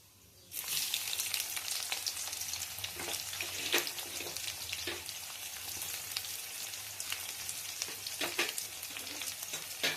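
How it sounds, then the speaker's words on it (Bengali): Onion hits hot oil with black cumin in a pan, bursting into a loud continuous sizzle after a brief quiet start, with intermittent stirring scrapes through the frying. "পেঁয়াজটা দিয়ে একটু নেড়ে নিই।"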